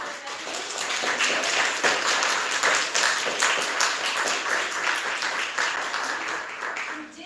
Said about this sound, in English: Let's give a round of applause for all our veterans.